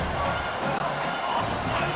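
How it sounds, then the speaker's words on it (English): A stadium crowd roars steadily in EA Sports College Football 25, a broad, sustained wash of cheering and shouting from a packed college football game, filling the background without a break. "The roar of the crowd trying to fuel this defense to keep them pinned in their own end"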